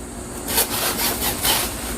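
A hand saw cutting with a few rasping strokes in a steady back-and-forth rhythm, close and moderately loud, with no talking.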